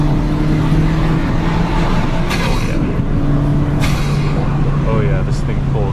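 A 2023 Honda Civic Si engine drones loudly and steadily from inside the car as it accelerates, with road roar underneath and a few short higher bursts of noise.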